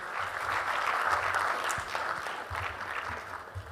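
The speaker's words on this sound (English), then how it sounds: "Ladies and gentlemen, another round of applause for the Vice President." An audience at a national ICT job fair launch applauds the Vice President, a steady wash of many hands clapping heard from a distance, continuous and even throughout.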